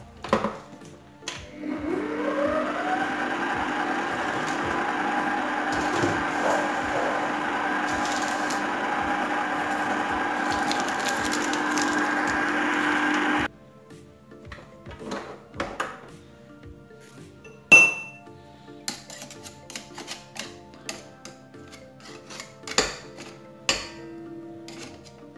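A motorized mixer whirs steadily while blending cake batter ingredients in a bowl, rising in pitch at the start and running about twelve seconds before cutting off, followed by scattered light clatter.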